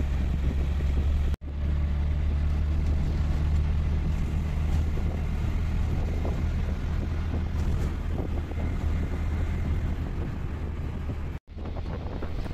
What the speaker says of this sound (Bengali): তো আমি টোটো করে বেরিয়ে পড়লাম